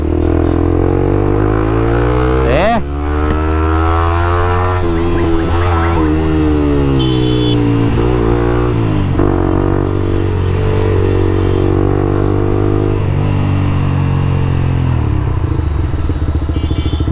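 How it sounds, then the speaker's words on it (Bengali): A TVS Apache RTR 4V motorcycle fitted with a Scorpion aftermarket exhaust idles loud and close, blipping the throttle into a rising rev before settling back to a deep, rumbling idle. "আমার বাইকের যে সাউন্ড, পুলিশে ধরলে আজকে আমার এক্সজস্ট খুইলা নিয়ে যাবে।"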